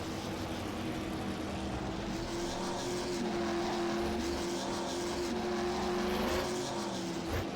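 HHRL late model race cars at Hickory Motor Speedway roar past under a steady wash of engine noise, their pitch rising and falling as they lap, loud and continuous with no voices.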